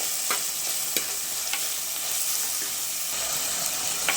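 Tomatoes sautéing with a little rock salt in a pan for stingray fish curry give a steady bright sizzle, with occasional stirring scrapes and clicks close by and no talking.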